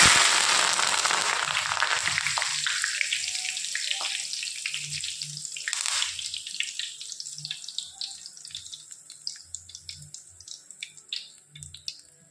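Drumstick (moringa) leaves fry in refined ration palm oil, a loud crackling burst at first that settles into a steady, softer sizzle with scattered pops and faint clinks from the pan, with no talking.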